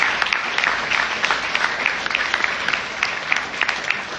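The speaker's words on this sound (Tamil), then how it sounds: "நீங்கள் மீண்டும் ஒரு முறை கைதட்டுங்கள் என்று நான் கேட்டுக்கொள்கிறேன்" Students at a poetry talk by a speaker applaud, filling the hall with steady, dense clapping at moderate loudness, with no voices on top.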